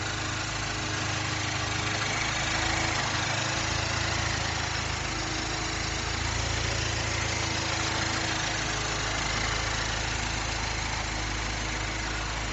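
A 2010 Mini Cooper S R56 engine idling steadily, a constant low throbbing hum with an even mechanical rhythm, close and unchanging for the whole stretch.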